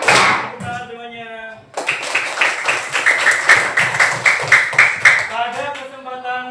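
Students in a classroom clap their hands in quick, steady bursts, a run of sharp claps that follows a spoken call and then fades back into talk.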